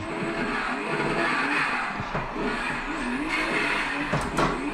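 Drift car engine in the Assetto Corsa racing game, played on a simulator rig, revving hard and rising in pitch then dropping sharply through upshifts, with continuous loud engine roar and some tire noise, no talking.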